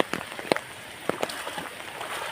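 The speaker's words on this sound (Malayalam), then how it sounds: "അപ്പം കുറേ വലിയ മഴയാണ് ഇപ്പോൾ പെയ്തുകൊണ്ടിരിക്കുന്നത്." Heavy rain pours down outside a house yard, a dense steady hiss broken by a few sharper splashes and drips close by.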